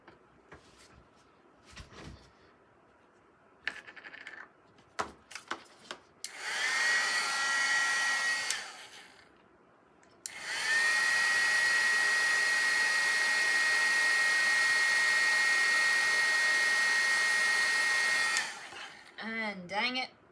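Embossing heat gun used for scrapbooking, blowing as a steady loud whir in two long stretches with a thin whine, separated by handling clicks and rustles, close to the microphone.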